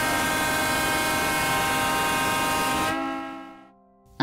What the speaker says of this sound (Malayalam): ഖബൂസിൽ ഹോൺ മുഴക്കാനുള്ള അനുവാദമുള്ളതിനാൽ കുട്ടികളും മുതിർന്നവരും അതൊന്നും പരീക്ഷിക്കാതെ ഈ ട്രെയിൻ യാത്ര അവസാനിപ്പിക്കില്ല